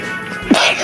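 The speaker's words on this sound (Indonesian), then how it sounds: "maaf guys, bersin guys" A single sharp, close, loud human sneeze bursts out briefly over quiet background noise.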